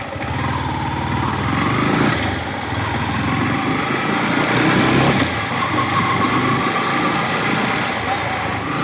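A warmed-up engine running smoothly after a cold start, with a close, loud, continuous and even hum that holds steady throughout.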